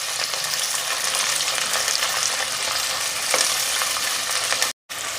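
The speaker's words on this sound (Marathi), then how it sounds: "कांदा छान गोल्डन ब्राऊन रंगावरती आपल्याला परतून" Onion and green chili fry in a pressure cooker for chicken pulao, a loud, dense, continuous hiss of oil heard up close, with one brief dropout near the end and no voices.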